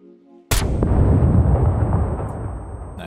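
A small anti-personnel mine in the SCUM survival game detonates with a single sharp, loud blast after near silence, followed by a long rumbling roar that slowly fades.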